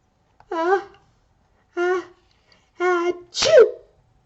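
A human voice imitates sneezing while reading a children's book aloud, giving four separate sneeze sounds spaced about a second apart, with the last one being a louder, sharper "achoo" burst.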